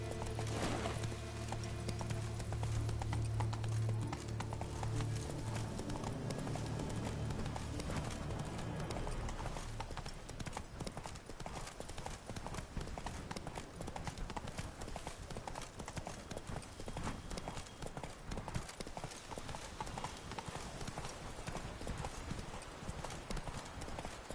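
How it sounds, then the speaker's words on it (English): Hooves of a horse clip-clop in a steady galloping rhythm throughout, from a fantasy role-playing video game, with game ambience and music fading out early on; no talking is heard. "Whoa there, Roach."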